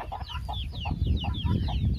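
A naked neck chicken, a native country hen breed, clucking in a rapid series of short rhythmic calls with faint chirping birds behind and a low background murmur.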